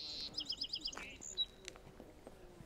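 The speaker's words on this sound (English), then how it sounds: "Song sparrows just singing away." A song sparrow sings outdoors at Birch Bay State Park, a quick series of bright, clear trilled notes followed by a few scattered chirps, moderately close over a quiet background.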